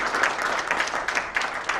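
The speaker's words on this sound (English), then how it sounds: "Let's clap for them also." A crowd at a Delhi event claps steadily throughout, a dense, even applause with no talking over it.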